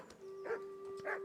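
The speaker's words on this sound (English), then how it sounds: "There's a dog." Dog barking at a butcher's yard in Kingdom Come: Deliverance, two short faint barks heard alone, with a steady tonal background hum.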